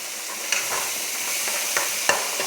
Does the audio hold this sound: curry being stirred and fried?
yes